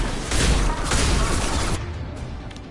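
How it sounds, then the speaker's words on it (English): Rocket fire and explosions in the Mass Effect 2 video game, a loud dense burst of blasts and crashes that fades into a quieter rumble. "Someone is rocketing you."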